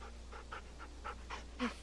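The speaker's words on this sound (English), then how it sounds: "Is that the dog?" A dog pants rapidly and rhythmically close by, a steady string of quick breaths over a low hum, with no talking.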